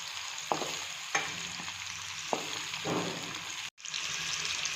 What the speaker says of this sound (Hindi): तो ऑयल में हम प्याज डाल देंगे और इसकी अच्छे से मिक्सिंग करेंगे।